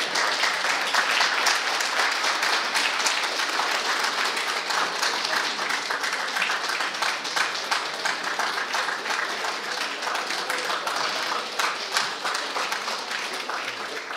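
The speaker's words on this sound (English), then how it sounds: "Would we please give him another round of applause?" Sustained applause from a lecture audience after an inaugural university lecture, a dense, steady wash of many hands clapping at even loudness throughout, with no speech over it.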